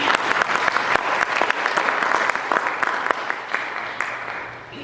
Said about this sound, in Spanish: Dese un aplauso